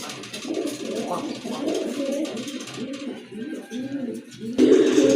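Several pigeons coo in overlapping, rolling calls, close by and fairly loud, with a louder burst of cooing near the end.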